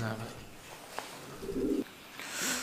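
Fancy pigeons at a farm in Natore give a brief, low coo in the middle, fairly soft against steady background noise.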